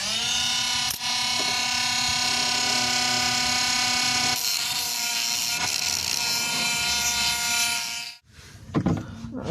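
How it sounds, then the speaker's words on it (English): A Dremel rotary tool with a metal cutting blade whines steadily near the rack and pinion of an Infiniti G35 during a high-pressure hose replacement, with a loud, sustained tonal grind that stops abruptly near the end, followed by clattering handling. "My blade was too long, so I gotta use the Dremel."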